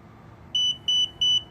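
Three short, evenly spaced electronic beeps, loud and close, come from a Hansshow power trunk system being set up on a Tesla Model 3, with quiet hiss between them.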